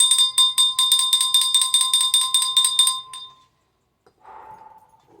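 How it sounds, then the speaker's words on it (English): A hand bell rung in a fast series of about a dozen bright, ringing strikes for three seconds, then left to fade, followed by a brief softer rustle. "I'm going to ring the bell."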